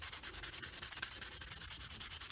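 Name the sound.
sanding reed and bamboo float parts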